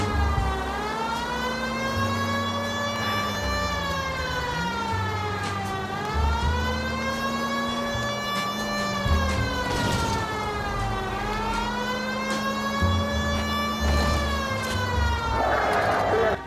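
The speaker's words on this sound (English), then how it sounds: "Busy traffic." Busy city street traffic in a video game, dominated by a loud wailing police siren sweeping up and down for the whole stretch, with steady vehicle engine noise beneath it.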